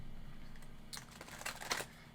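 A stiff, smooth tarot card deck riffles and slides in a few short crisp bursts of flicking, fairly quiet and close, with no talk over it.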